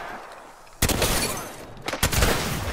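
Gunfire from the game Apex Legends: two loud, close bursts of shots, a longer one followed by a shorter one, with noisy scuffling between them.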